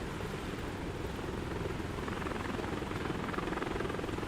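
An MH-60 helicopter in Microsoft Flight Simulator 2024 drones with a steady, dense rotor and turbine roar, continuous and even throughout with no voices.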